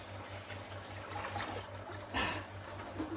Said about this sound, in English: I'm pouring it straight into a muslin bag